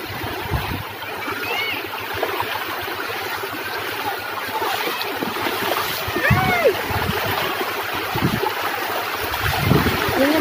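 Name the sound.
river water while wading across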